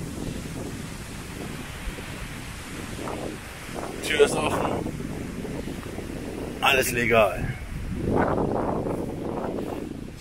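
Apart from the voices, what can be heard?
strong wind outdoors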